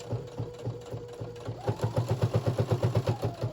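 A sewing machine stitching a fabric notebook cover, close and steady, its needle running in a quick even chatter that speeds into a faster, louder rhythmic run partway through.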